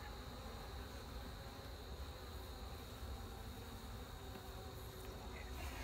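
Bees buzzing steadily around a weak, struggling hive being robbed, with a hornet nearby: a dense continuous insect drone, fairly faint and even throughout, with no talking.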